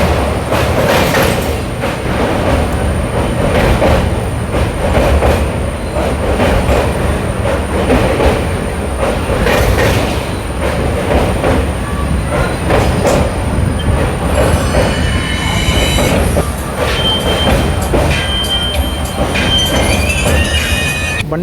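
The Gomteshwara Express runs from Yesvantpur to Mangaluru, its coaches rumbling loudly and steadily with clattering wheels as it nears Bantwal station. Wheels squeal toward the end as the train slows.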